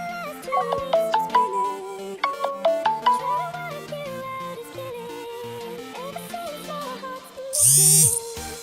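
A mobile phone plays a melodic electronic ringtone for an incoming call from a priority contact, a repeating pattern of bright tones. It ends with a short, loud, noisy burst.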